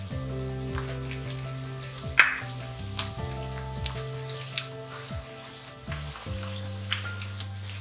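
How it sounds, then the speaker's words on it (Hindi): Chopped onion frying with garam masala in a pan gives a steady sizzle, with occasional clinks and stirring taps over a low background hum. "प्याज खुल गई है, अब हम इसमें गरम मसाला डाल रहे हैं।"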